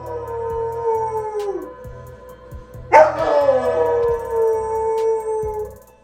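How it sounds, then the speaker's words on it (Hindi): A pet dog howls in long, wavering, rising and falling notes, close and clear, against a steady rhythmic piano accompaniment, with one sharper, louder howl midway. "वीडियो में जैसे ही पियानो पर म्यूजिक बजता है तो कुत्ता पूरी धुन के साथ आवाज निकालना शुरू कर देता है।"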